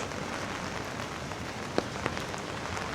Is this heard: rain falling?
yes